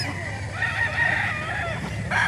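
A gamefowl rooster crows loudly and close by at a gamefowl market in Calauan, one sustained crow over a busy background hum.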